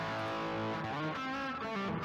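Electric guitar played through the Kinky Boost on a Line 6 HX Effects unit, a lead boost tone with sustained distorted notes and sliding bends, loud and steady with no talking.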